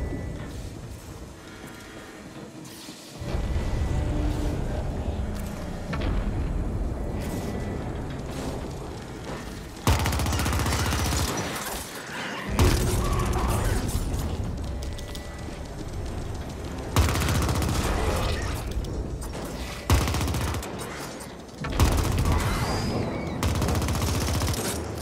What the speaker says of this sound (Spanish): Guapa la explosión, qué bien hecho, tío.